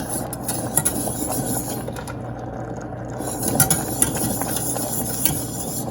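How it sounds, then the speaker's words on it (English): A whisk working steadily through a bubbling, thickening vegan sauce in a pan on medium-low heat, producing continuous close-up scraping and clicking against the metal with a rhythmic, ratchet-like texture. "When it starts to bubble up like this, I'll continue whisking and reduce the heat to medium-low."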